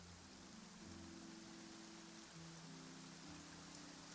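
Rain falls steadily in a video game, a dense, even hiss that never lets up, with a low hum of game music or ambience underneath and no voices.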